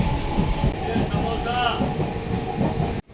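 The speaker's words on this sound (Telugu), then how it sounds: "ఇప్పుడైతే మన ట్రైన్ స్టార్ట్ అవుతుంది చూడండి" A MEMU Express train starts to move, giving a loud, close rumble and hiss with rhythmic clatter that cuts off abruptly at the end, with voices mixed in.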